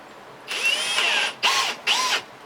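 A power drill boring a hole for a bird house whirs in three close bursts, one long spin followed by two shorter ones, each rising and falling in pitch.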